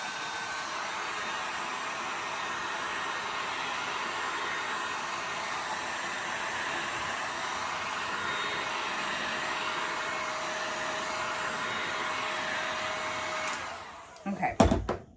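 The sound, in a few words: heat tool blowing to melt top of soy wax candle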